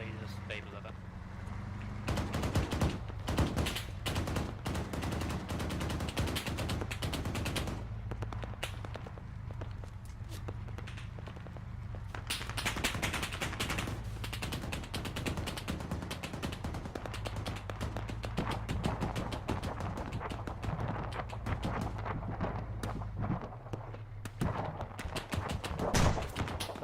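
Apache helicopter gun run in the Arma military game, a long stretch of dense, rapid bursts of cannon fire over a steady rotor drone, loud and continuous, with voices talking over it in places.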